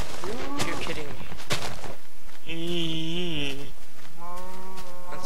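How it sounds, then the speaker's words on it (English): Cow mooing in the Minecraft video game, two drawn-out bellowing calls close and loud, mixed in with a person talking over the gameplay. "That's the sound of a cow."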